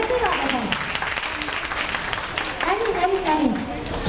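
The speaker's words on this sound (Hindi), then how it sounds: "तालियां तो बनती है यार" A class applauds during a Montessori education session, steady clapping from a group with talk and voices mixed in over it.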